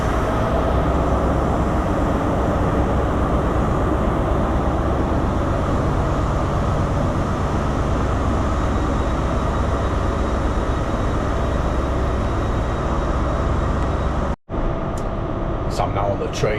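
Steady, loud rumble inside a moving passenger train in Scotland, a continuous broadband roar of wheels and ventilation with a brief dropout near the end.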